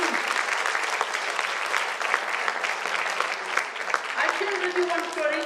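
Audience applause fills a lecture room on immunity and diet, steady dense clapping from a crowd for the whole stretch, fairly close and even in level.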